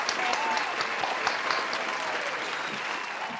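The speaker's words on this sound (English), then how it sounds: "We got to applaud this queen, Miss Yolonda Ross." Studio audience applause greeting a guest on a talk show, a sustained wash of clapping heard at moderate distance, steady and fading slightly toward the end.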